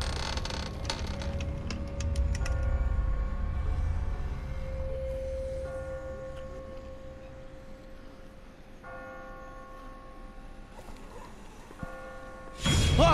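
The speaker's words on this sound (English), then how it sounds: "I just got spooked by those bells," Church bells ring out amid eerie ambience in The Walking Dead Season 1 video game, sustained tolling tones layered through a murky background, ending with a sudden loud burst of noise.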